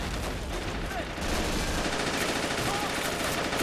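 Constant battle gunfire from the Stalingrad fortress defense in Men of War: Assault Squad 2, dense overlapping rifle and machine-gun fire that swells slightly after the first second.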